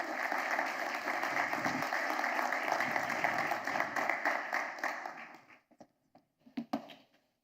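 Audience applause at a productivity week conference welcoming a speaker: a dense, sustained burst of clapping that fades after about five seconds into a few scattered final claps.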